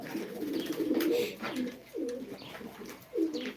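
Pigeons cooing at a live pigeon auction, several close, throaty rolling coos repeating in bursts, fairly quiet, with no talk over them.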